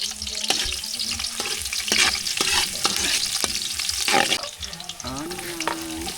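Garlic sizzles in a frying pan while being stirred, loud and close, with scraping strokes and brief tonal sounds toward the end.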